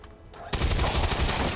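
Gunfire in the XCOM 2 video game, a sudden loud burst of rapid, rattling shots that runs steadily for about a second after a quiet lead-in, close and with no talk.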